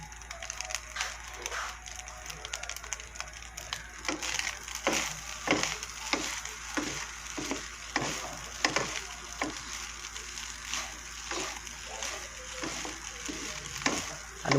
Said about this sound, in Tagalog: Halu-haluin lang natin ng maayos para hindi masunog sa ilalim at saka kumalat yung mga linagay natin